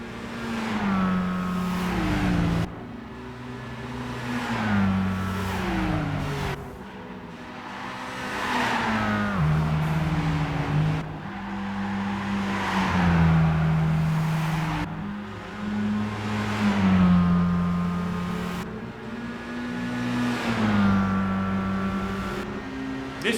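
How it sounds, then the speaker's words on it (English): Mitsubishi Lancer engine in Gran Turismo 5, revving up repeatedly and dropping between gear changes in a steady cycle, loud and close throughout. "It sounds like I expect a Lancer to sound like."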